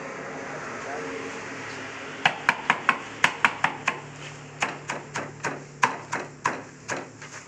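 Bindi leaves cut up with a knife for a simple homemade plant pesticide: a run of about fifteen sharp, fairly loud chops in steady rhythm, starting after a quiet stretch of low background hum.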